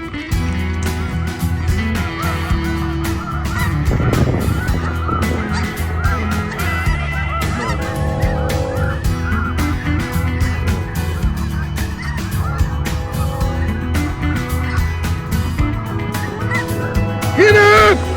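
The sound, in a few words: flock of geese honking during a Saskatchewan goose hunt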